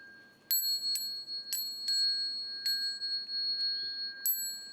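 A small hand bell rings several times at uneven intervals, bright clear tones that ring on between strikes, in a quiet room.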